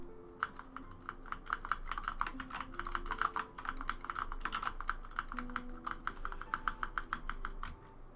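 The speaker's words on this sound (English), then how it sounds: "The mic is right beside my keys. I hope you like key sounds." Rapid typing on a computer keyboard with the mic right beside the keys, producing close, crisp clacks in quick irregular bursts that run the whole way through with no talking.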